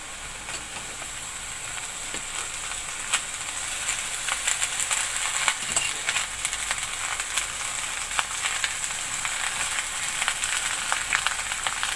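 Sliced onions frying in a cup of ghee, a steady dense sizzle with crackling pops throughout, close and fairly loud with no talk.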